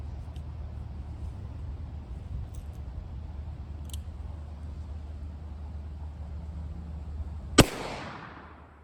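A single loud, close gunshot from a .45 Colt revolver firing a 225 grain lead hollow point cracks near the end, ringing out briefly over steady outdoor background hum.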